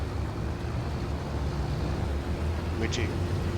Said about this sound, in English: I do not care for this Mercedes-Benz tractor.